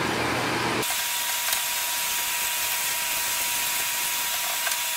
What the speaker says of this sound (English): I spray her over one more time to make sure everything is rinsed out.